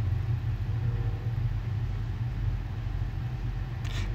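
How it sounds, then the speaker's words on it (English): A 1993-1997 Ford Ranger pickup driving along, its engine giving a steady low rumble with road noise that holds even and close throughout, no voices over it. "here I am with the Ranger moving, driving without issue"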